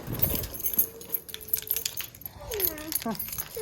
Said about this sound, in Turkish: Anahtarımızı alalım.